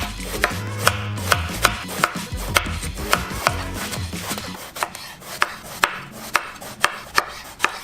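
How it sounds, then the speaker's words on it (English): A knife slicing a Chinese eggplant on a cutting board, with about a dozen crisp, evenly spaced chops heard close over a background of music. "We're just gonna slice that up."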